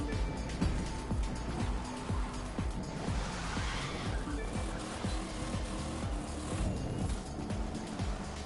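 Car in the racing video game The Crew 2 oversteering, a steady engine roar with tire squeal and skidding running throughout, loud and close, with game sounds layered over it.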